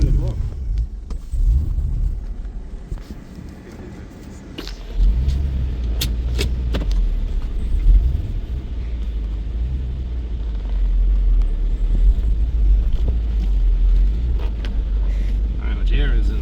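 A 6.1L HEMI Jeep Grand Cherokee SRT8 with an untuned camshaft pulls away in drive, its deep engine rumble steady and close throughout, with a few sharp clicks and people talking over it.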